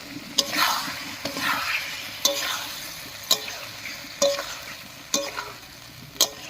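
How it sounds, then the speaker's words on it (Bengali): Cauliflower and potatoes sautéing with spices and a splash of water in a pan, a soft continuous sizzle punctuated by regular scraping strokes of a spatula stirring them, close and rhythmic. "এবারে একটুখানি জল দিয়ে ফুলকপিটাও কষিয়ে নেব আলুর সঙ্গে"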